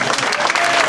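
A church audience applauds after a scene in a stage play, dense clapping that is loud and continuous through the brief moment.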